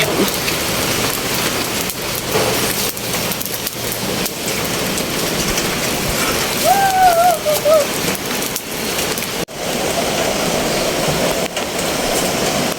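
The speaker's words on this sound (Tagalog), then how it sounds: "It's raining." Heavy rain pours down during a storm, a loud, continuous hiss of drops hitting surfaces. A brief high whistle-like sound rises midway, and a short dip follows before the downpour resumes.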